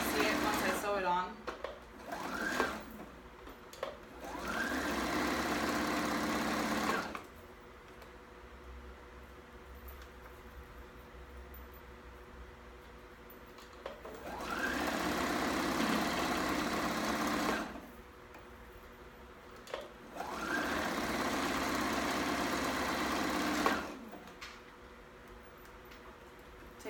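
Home sewing machine stitching a dress: three long, steady bursts of close motor whir and needle chatter separated by pauses, with a voice speaking in the quieter gaps.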